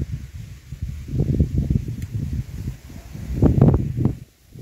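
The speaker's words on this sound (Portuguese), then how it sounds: "Chuvinha com vento. Bastante vento aqui." Light rain and gusting wind sweep across a rural plantation, producing uneven rustling bursts that swell and fade, close and moderately loud, with no voices.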